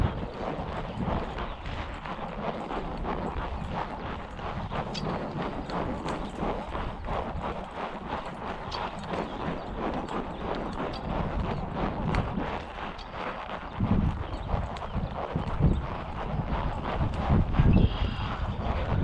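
A horse trots down a road, its hooves giving a steady, continuous clip-clop close by, with wind noise rushing over the microphone throughout.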